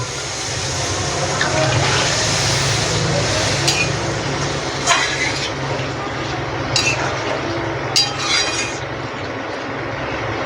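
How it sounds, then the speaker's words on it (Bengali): Water poured into a pan of soybean and half-cooked potato curry, a steady broadband rush that runs continuously for about ten seconds with faint clinks of utensils over it. "এবার আমি জল দিয়ে দেব।"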